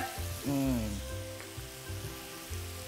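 Chicken with strawberries sizzles as it is stir-fried in a hot, shallow pan with soft scraping stir strokes, while a low voice and brief tonal sounds rise over it.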